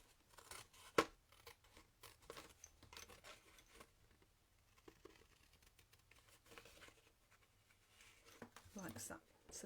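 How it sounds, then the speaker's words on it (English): Quiet snipping and rustling of scissors cutting through card, with soft paper handling noises and a few sharper clicks near the end. "with your scissors you're just going to cut down that line"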